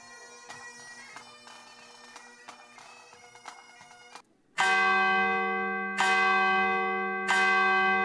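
A large bell rings at a university convocation ceremony, first as soft repeated strikes, then three loud, resonant clangs spaced about a second and a half apart, each left to ring out.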